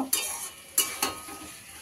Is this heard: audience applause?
no